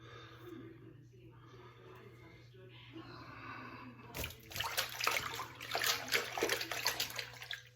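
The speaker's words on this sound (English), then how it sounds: "Let's get some hot water going here." Hot water gushes from a tap into a basin during a straight razor shave, starting partway through after a quiet stretch with a low hum and a few small sounds, then splashing steadily and close.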